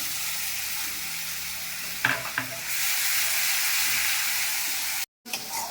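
Tomato paste fries in oil with turmeric and Kashmiri chili powder for a cauliflower roast. A loud, continuous hissing sizzle runs throughout, with a couple of spoon scrapes and a brief cut to silence near the end.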